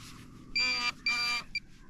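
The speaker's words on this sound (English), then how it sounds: "that beeping earlier was my pin pointer" A metal detecting pinpointer beeps near the mic: two sustained electronic tones followed by a short chirp, all over quiet outdoor background.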